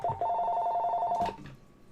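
An electronic telephone ring trills in fast repeated pulses, clear and close, stopping suddenly after about a second with a brief rustle afterward.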